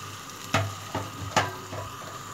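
Half a kilo of bone-in beef dropped into masala frying in a pot, with a few sharp sizzling bursts and clattering thumps as pieces hit the hot oil over a steady low fry.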